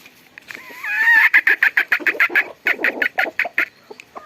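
A young rooster crows once loudly and close, followed by a rapid series of sharp, rhythmic clucks and calls from fowl.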